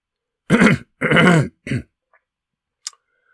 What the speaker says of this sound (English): clearing his throat obnoxiously